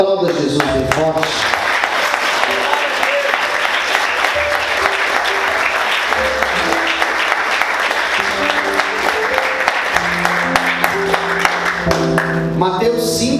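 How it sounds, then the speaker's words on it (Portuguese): A church congregation applauds loudly and continuously, with music and voices mixed underneath, the clapping sustained throughout before it begins to settle at the end. "Aplauda Jesus bem forte."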